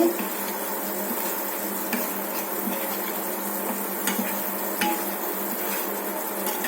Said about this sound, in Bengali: একটু জিরা বাটা, আদা বাটা, রসুন, পেঁয়াজ, হলুদ, মরিচ দিয়ে ভালোভাবে কষাই নিতেছি।